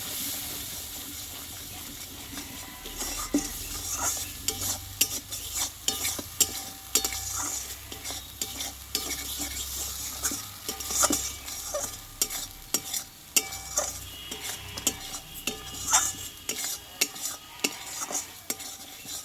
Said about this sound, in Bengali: আর দেবো একটু জিরে গুঁড়ো এই মশলাটা আরও কিছুক্ষণ আমি একটু কষিয়ে নেবো